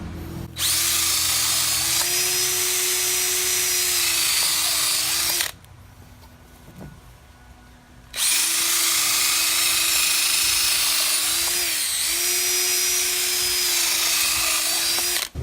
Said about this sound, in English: drill a series of holes in the tire, making pairs of them going across the treads.